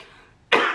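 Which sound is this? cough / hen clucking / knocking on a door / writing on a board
cough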